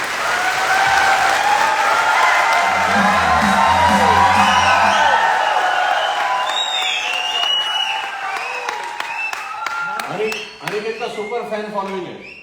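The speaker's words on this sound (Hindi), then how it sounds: "जोरदार तालियां होनी चाहिए अनिकेत के लिए" A crowd at a live business motivational event applauds and cheers loudly for a successful member, dense clapping and whoops building over several seconds, then thinning into scattered claps as a voice speaks over it.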